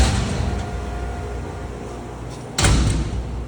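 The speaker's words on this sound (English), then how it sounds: "So you close the door." A door on a horse care machine swings shut with a single thud at the end, preceded by a low steady hum of background noise.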